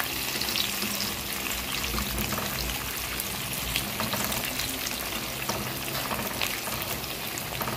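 Pork chops deep fry in hot oil for crispy fried pork, a dense, steady, close sizzle and crackle with no pauses and no talking.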